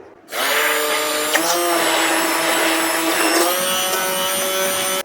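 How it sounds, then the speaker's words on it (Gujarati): An electric mixer grinder blends rose lassi made with ground rose petals. It starts suddenly with a loud, steady high-pitched whir, runs for about five seconds and cuts off at the end. "ગ્રાઇન્ડરથી કરી લઈશું।"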